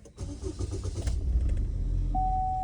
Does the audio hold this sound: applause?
no